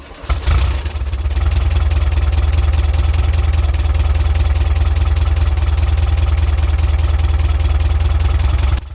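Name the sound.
Volkswagen Type 4 engine idling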